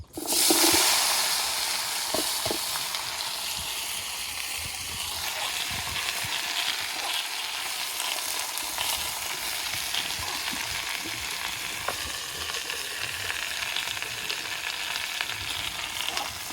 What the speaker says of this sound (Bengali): তেলের ভিতরে কচুয়ার পুঁই শাক ঢেলে দেবো